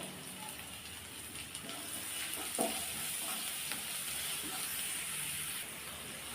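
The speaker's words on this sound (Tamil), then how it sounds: "வெங்காயம் வதங்க தேவையான அளவு உப்பு சேர்த்துக்கலாம் சீக்கிரமாக வதங்கிடும்" Onions sautéing with curry leaves and salt in a pan for a brinjal curry. They give a soft, steady sizzle and hiss, with faint scrapes from occasional stirring, quiet and close, with no speech.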